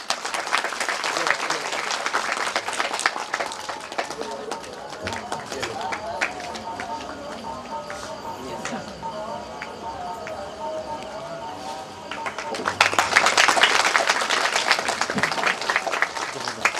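An audience at a religious katha claps in bursts, once at the opening and again more strongly near the end, with someone talking in between.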